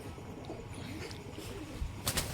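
Pigeons kept for flying tournaments coo softly in a low, murmuring call, fairly close, with a brief flutter or rustle near the end.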